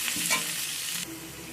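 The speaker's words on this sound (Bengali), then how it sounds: "পেঁয়াজটাকে আমি রসুন আর পেঁয়াজ একসাথে ভেজে নেব।" Chopped onion and garlic fry together in a pan with a close, dense sizzle. A brief stirring scrape comes early, then the sizzle drops slightly and settles into a steady hiss.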